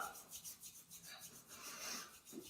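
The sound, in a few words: hands rubbing the ankle during self-massage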